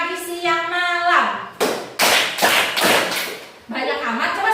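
A classroom of students claps a set rhythm pattern on a teacher's command, with three or four loud, sharp bursts of group clapping between stretches of the teacher's spoken cue.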